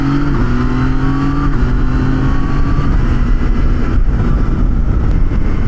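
A Yamaha Tracer motorcycle accelerates hard with quick-shifter gear changes, its engine note climbing in steady rising steps, loud and close under rushing wind.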